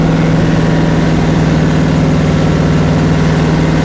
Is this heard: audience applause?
no